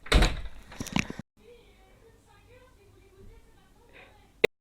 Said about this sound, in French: Tu peux refermer la porte, s'il te plaît?